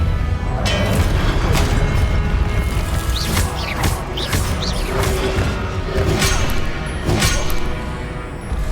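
Spell explosions in a Hogwarts video game: several booming blasts and crashes in quick succession, loud and close over a continuous rumbling background, with brief whooshes between hits.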